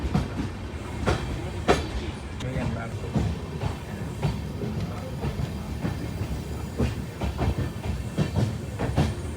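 Mysuru–Talguppa train 16206 pulling slowly out of Hassan junction, with steady rumbling wheels and intermittent clicks from the rails, heard from inside the carriage under occasional background voices.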